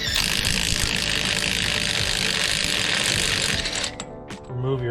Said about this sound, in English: remove your lug nuts